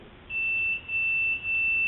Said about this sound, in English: this side is not beeping, so I'm going to push the switch and see if I get continuity